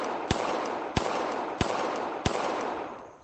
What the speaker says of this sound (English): we'll go ahead and take five controlled shots